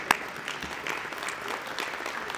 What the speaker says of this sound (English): That's what we need to clap for.